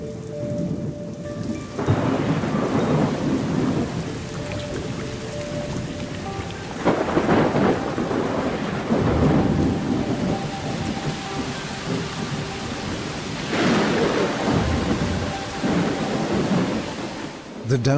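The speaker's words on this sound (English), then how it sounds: "the first storm in almost a year reaches this parched landscape" The first thunderstorm in almost a year breaks over the parched Pantanal wetlands of Brazil, heavy rain pouring steadily while several deep rolls of thunder surge and fade.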